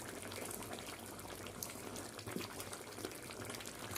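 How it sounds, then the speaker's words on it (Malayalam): A pot of chicken curry bubbles at a rolling boil, giving a dense, continuous gurgle with soft pops throughout at moderate volume. No voices are present. "അത് തിളച്ച് മറിയുണ്ട് കറി"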